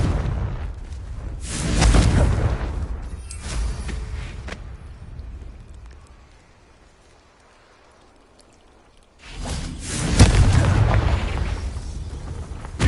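Confringo fire spell from Hogwarts Legacy bursting in two loud booming explosions, the first around two seconds with a rumbling tail, then a quiet lull before a second heavy blast near ten seconds.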